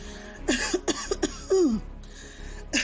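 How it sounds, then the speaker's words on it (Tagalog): A series of short, harsh coughs comes in quick bursts, close and fairly loud, with brief pauses between the fits, from a person with a severe cough. "mukhang matindi ang ubo"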